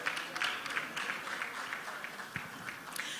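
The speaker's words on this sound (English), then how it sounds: "So please give them a round of applause." An audience at the Saint Lucia Carnival 2023 media launch applauds with a steady wash of moderate clapping, heard a little distant and without any talk over it.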